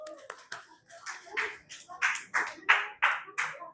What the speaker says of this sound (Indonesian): Tepuk tangan dong buat Malik.